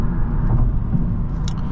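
Engine of a 2024 BMW 330i xDrive pulling hard under acceleration, a steady dense low rumble from inside the cabin, continuous and fairly loud throughout with no talk.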